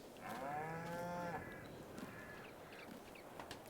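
Cows in Farming Simulator 22 give a drawn-out moo, followed by quieter, shorter lowing calls against a faint farmyard background, with no talking.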